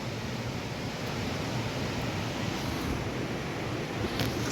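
Water rushes steadily at the Gundichaghai waterfall in Keonjhar, a constant dense roar heard from a bridge and unbroken for the whole stretch, with no voices.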